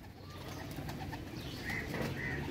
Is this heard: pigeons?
yes